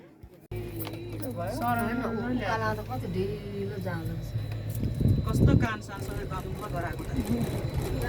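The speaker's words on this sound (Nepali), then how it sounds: "आकाङ्क्षा मनोकामनाको लागि चाबीहरू झुन्डाउने आशीर्वाद माग्ने" Keys are hung as offerings at the Bhaleshwor Mahadev Shiva temple in Chandragiri, making a brief metallic jangle midway. Voices and a steady low hum run throughout.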